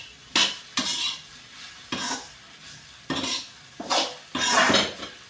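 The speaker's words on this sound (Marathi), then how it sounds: "एक वेळ हलवून घ्या." Dry roasted chapati pieces being stirred in a pan for kuskra chivda, giving six separate bursts of scraping and rattling against the metal with short pauses between them, close and clear with no talk.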